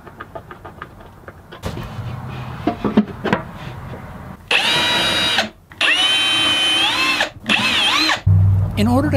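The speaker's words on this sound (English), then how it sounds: "I'm using one of these self-centering spring-loaded drill bits." A power drill fitted with a self-centering spring-loaded bit whines in several bursts of a few seconds each while drilling hardware holes for a cabinet, its pitch rising and falling, after clicks, handling noises and brief talk.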